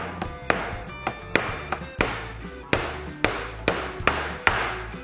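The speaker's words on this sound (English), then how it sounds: "Go ahead and put your second nail in there and do that to all of them." Regular, crisp hammer blows drive a nail into a door frame for a jamb installation, about a dozen close knocks in a steady rhythm, each with a short ringing tail.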